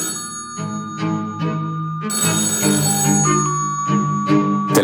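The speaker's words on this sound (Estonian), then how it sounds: "Telefonil tuli lasta 8 korda heliseda." An old telephone ringing, repeated bell-like tones in a steady pattern, loud and close, layered with other tonal sounds and no speech.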